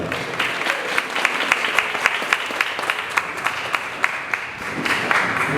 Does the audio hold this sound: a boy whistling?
no